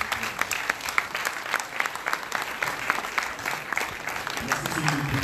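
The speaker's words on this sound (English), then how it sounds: "Madame Sylvie Piscabaji, qui demande d'applaudir" Audience applause at the 28th AIMS conference, a steady, dense wash of clapping that fills the whole stretch at moderate volume, with a voice faintly present beneath it.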